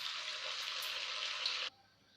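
Vegetable Manchurian balls fry in hot oil with a steady, close bright sizzle that runs for well over a second and then cuts off abruptly, leaving only a faint hiss.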